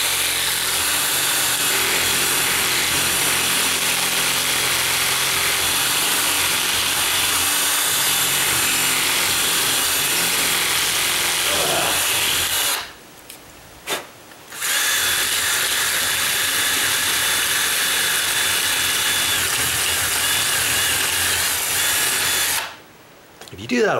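A power drill grinds steadily into a wooden door frame at a deadbolt strike plate for a long stretch, loud and close, stopping briefly twice before starting up again.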